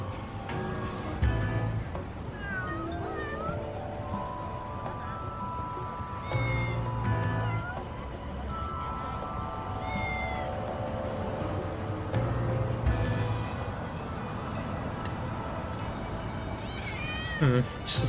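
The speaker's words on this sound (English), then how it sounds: "Freaking cats." Cats in the video game Lost Judgment meow repeatedly in short, rising calls across the stretch, some drawn out into wailing caterwauls, set over a steady ambient game background with a couple of louder thumps.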